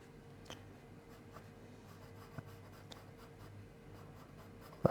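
A pastel stick drawing lightly across paper gives a faint, soft scratching with small scattered ticks, quiet throughout and ending in a brief louder scrape.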